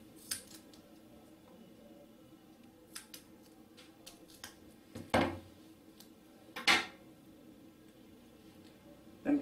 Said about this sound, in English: Then take the double sided tape and cut another small size.